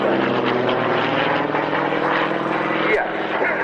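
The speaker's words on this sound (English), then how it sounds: "Not the most powerful aeroplane in the world, pushing up, holding it vertically, holding it on the propeller" A low-powered propeller aeroplane performing aerobatics at the North Weald Airshow, climbing vertically and hanging on its propeller, its engine giving a loud, sustained droning buzz with a slight shift in pitch near the end.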